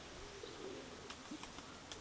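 Soft, low pigeon coos rise faintly from a quiet background, joined by a few brief rustles.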